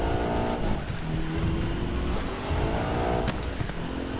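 A car drifts in The Crew 2 racing game, engine roaring loudly with revving and tire squeal sustained close up through the whole stretch.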